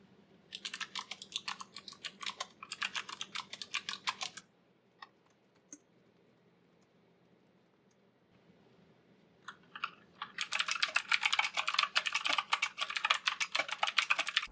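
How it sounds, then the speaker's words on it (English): Rapid typing on a Logitech MX Mechanical Mini wireless keyboard, a dense stream of close, crisp key clicks in two bursts separated by a few seconds of near silence with a few stray taps. "just a quick recording sound of me typing in this different keyboard for just a quick comparison"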